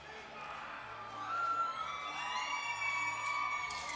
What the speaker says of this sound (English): fans are still cheering for Jorge Britos over that big upset win against Kevin Torres